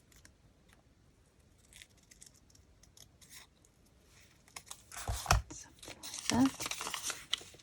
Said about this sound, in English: I need it smaller, so I'm just going to trim it down.